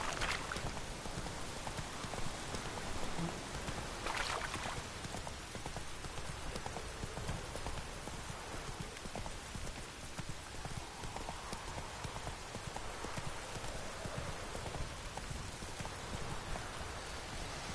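Rhythmic clip-clop of horse hooves at a gallop amid a steady rain-like hiss in the video game The Witcher 3, distant and faint throughout.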